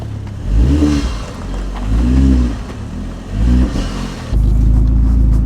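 An old car with a sticky brake caliper revs its engine in repeated rising surges, three loud bursts of throttle that swell and fade, then settles into a steady, heavier rumble near the end.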